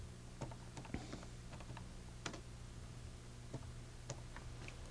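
Text being typed on a computer keyboard, with soft, irregular key clicks in short bursts over a quiet room hum, nearby and without any talking.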